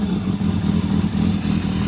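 A motorcycle engine runs steadily in cold weather with a fruity, slightly uneven note, a close, continuous low throb with fine rapid pulsing, no voices.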